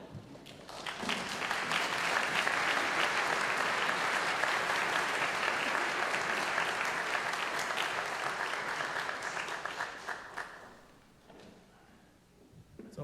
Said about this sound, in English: It's always embarrassing when the applause does not get you all the way to the podium.